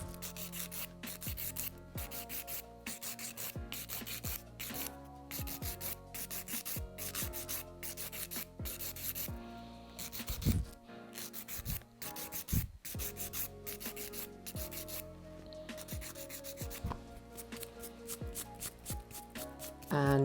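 Hard gel nails are filed with a 100 grit nail file, giving rapid, close, rhythmic scratchy rasping strokes in short bursts with brief pauses, quiet and alone.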